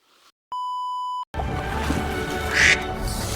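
A duck gives a single short quack after a long, loud electronic beep, set against a constant background hiss.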